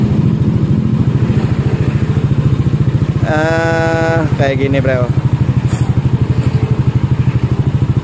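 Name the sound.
Yamaha Aerox scooter idling with rebored ROB1 exhaust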